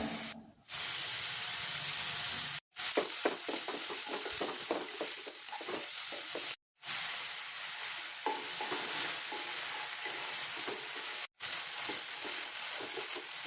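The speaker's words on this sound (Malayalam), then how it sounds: "ഈ ഒരു ചിക്കന് നമുക്കൊന്ന് ഫ്രൈ ആക്കി എടുക്കാം" Chicken marinated in ginger-garlic paste with chili powder and other spices fries loudly in a pan, a constant sizzle with repeated stirring scrapes, broken by a few brief silent gaps.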